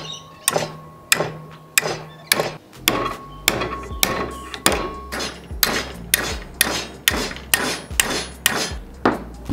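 A heavy hammer strikes metal about fifteen times at a steady rhythm, each blow sharp and close with a brief ringing tail. No voices are heard.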